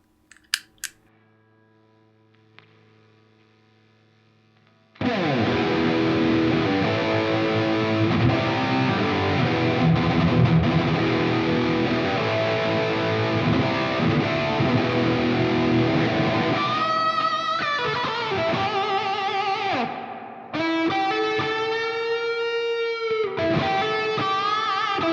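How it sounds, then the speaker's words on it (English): Electric guitar through a reverb effects pedal, sustained chords and ringing notes washing out into long reverberant tails, loud and continuous after a quiet start, with sliding tonal phrases near the end. "That's some sweet sounding reverb."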